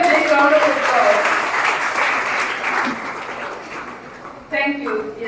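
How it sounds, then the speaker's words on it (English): Audience applause at the inauguration of a school society's platinum jubilee, a broad wash of clapping that gradually thins, with a voice speaking over it and a brief louder burst near the end. "Once again, a big round of applause."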